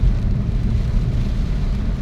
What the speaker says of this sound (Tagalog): Hampas ng hangin na may ulan, may ulan, di ba?